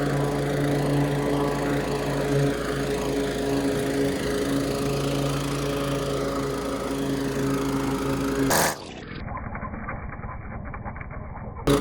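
A lawn mower runs steadily while mowing a neighbor's yard, a loud continuous engine drone that cuts off abruptly near the end, with pigeons cooing faintly in the background.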